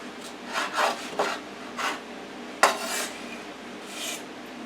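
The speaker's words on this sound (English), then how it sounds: "So now you're just going to cut it in half." A long knife saws through a grilled tortilla on a board, making several short, raspy cutting strokes with one sharper crunch near the middle, close and moderately loud.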